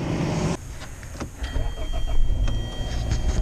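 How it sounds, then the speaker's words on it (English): A car engine cranks and catches, then settles into a low running rumble, close by and moderately loud, with no talking. "Well, it's a good sign that the car actually starts."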